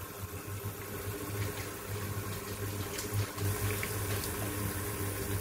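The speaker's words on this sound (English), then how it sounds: "we're going to add a little bit of water" Water poured into a pan of mutton curry with masala, a steady running, gurgling pour over a low hum that lasts throughout, close and moderately loud, with no talking.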